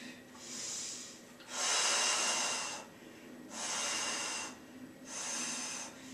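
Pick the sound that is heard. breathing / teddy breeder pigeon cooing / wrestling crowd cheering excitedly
breathing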